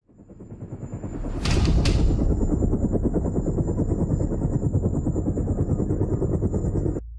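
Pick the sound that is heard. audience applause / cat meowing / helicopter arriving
helicopter arriving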